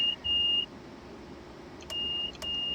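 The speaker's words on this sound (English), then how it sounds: "So we've got a buzzer as well." Train buzzer in the Train Simulator 20 London-Brighton route: two short bursts of a steady high electronic tone separated by a pause, then repeated beeps, clear over a low cab engine hum.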